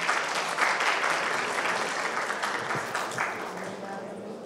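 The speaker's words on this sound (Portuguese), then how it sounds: "Uma salva de palmas." An audience gives a round of applause to welcome two new team members at a Brazilian mining-company presentation, with moderate, continuous clapping that holds steady and then slowly fades.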